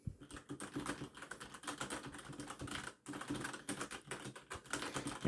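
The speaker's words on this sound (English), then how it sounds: "The second keyboard is cherry MX red switches." Mechanical keyboard fitted with Cherry MX Red switches being typed on steadily, a dense run of soft clicky keystrokes with brief pauses, close and alone.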